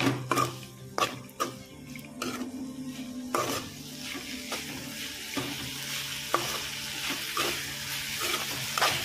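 Raw prawns fry in hot oil in a pan for an okra and prawn stew, a steady sizzle broken by repeated clinks and scrapes of a spoon stirring against the pan.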